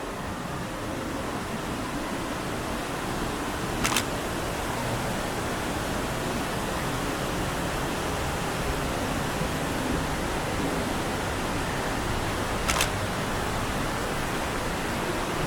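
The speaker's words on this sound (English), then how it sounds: "We're right next to the falls." A waterfall rushes steadily beside a cave-like rock structure at an abandoned western theme park in Kentucky, a dense, unbroken broadband roar heard close by with no talk over it.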